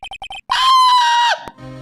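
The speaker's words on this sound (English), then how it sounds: "It's that scream I heard in the elevator!" Scream in the Ace Attorney video game, a few short blips followed by a loud, sustained high-pitched synthesized shriek that cuts off abruptly, alone.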